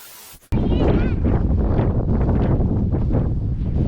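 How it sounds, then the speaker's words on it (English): Strong wind buffets the microphone on a beach, starting abruptly after a quiet half second and roaring loudly and unevenly throughout. "As soon as I said that, the wind pops up."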